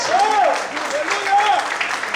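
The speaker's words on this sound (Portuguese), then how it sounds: "Será que você pode aplaudir o Senhor?" A church congregation claps steadily under a preacher's loud voice, the applause a continuous close patter beneath his speech.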